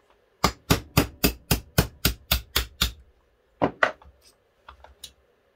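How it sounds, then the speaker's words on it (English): About ten sharp, evenly spaced metal taps from a hammer striking a punch to drive out a pin on a Browning Auto-5 shotgun, followed after a pause by a few lighter, scattered knocks. "No problem, we'll just punch it right out."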